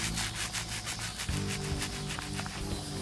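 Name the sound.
wiping paint off a speaker panel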